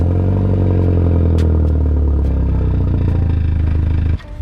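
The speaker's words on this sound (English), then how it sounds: "I highly suggest starting your car up to see what it sounds like straight piped" Audi TT 225 running with its rear exhaust removed, straight piped, giving a loud, steady, deep idle drone close by that cuts off abruptly near the end, with no talking.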